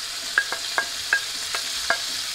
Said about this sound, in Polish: już zaczyna ładnie skwierczyć.